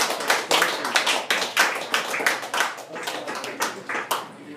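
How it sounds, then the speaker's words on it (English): Small audience clapping at a café music performance, a steady patter of hand claps in uneven bursts, fairly close and alone without talk. "The applause is nice"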